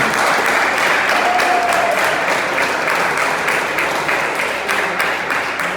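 A church congregation applauds during a sermon, a dense, steady wash of many hands clapping at once that stays loud and even throughout.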